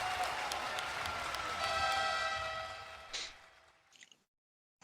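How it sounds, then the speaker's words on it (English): A canned applause sound drop plays, a burst of crowd clapping that swells steadily and then fades out abruptly after about four seconds. "I'm surprised you actually gave me the clapping."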